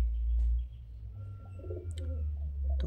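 Rampuri pigeons coo softly over a steady low hum, with a few faint chirps and clicks scattered through the short stretch.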